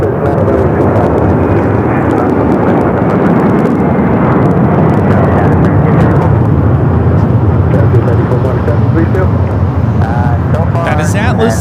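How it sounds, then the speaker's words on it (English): An Atlas Air Boeing 747-400 freighter roars down the runway on takeoff at LAX, a loud, continuous, heavy jet rumble filling the whole stretch, with voices faintly under it. "That is Atlas Air 8537 taking off to Honolulu on the 747-400 freighter"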